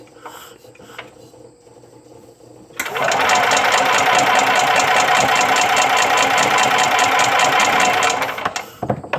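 A Yamaha G9 golf cart engine, newly supplied with fuel after a carburetor spacer job, starts abruptly and runs at a steady, loud, rapid mechanical clatter for several seconds, then cuts off near the end.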